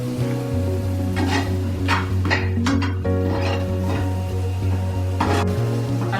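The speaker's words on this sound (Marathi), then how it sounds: "आता याच्यामध्ये प्रॉपर आपण मिक्स करूया त्याला" A spoon stirs softened tomatoes in a cooking pan, giving a few scrapes and clinks over a steady low sizzle and hum.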